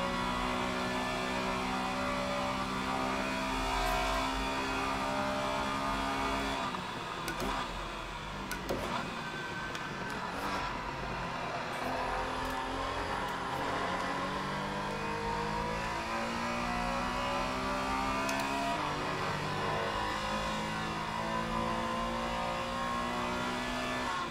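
Race car engine lapping the Imola circuit in a racing video game, a steady droning whine with rising and falling pitch through gear changes and corners, continuous and fairly loud for the whole stretch.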